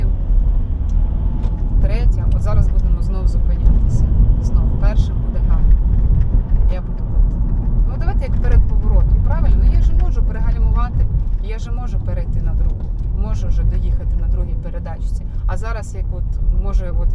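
A manual-transmission car drives steadily, its engine a low continuous rumble as it eases into a turn and shifts into second gear, with someone talking throughout over the motor.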